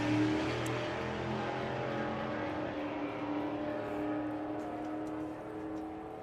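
Drag racing car launching and accelerating down the strip at a sportsman nationals test day, its engine a faint, distant sustained roar that rises steadily across the run.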